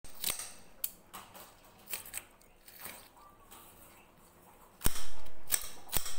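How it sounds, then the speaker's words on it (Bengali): Onions are finely chopped with a knife, without a chopping board, giving sporadic crisp cutting clicks that turn louder and closer toward the end. "পেঁয়াজগুলো নিম করে কুচিয়ে দিচ্ছি"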